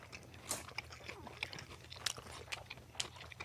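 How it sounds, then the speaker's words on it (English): Close, crisp crunches and chewing as a Korean-style hot dog from Pink's is bitten, its casing snapping, with several sharp bites spread over a few seconds and a low room hum beneath, no talking. "plus the dog snaps when you bite into it"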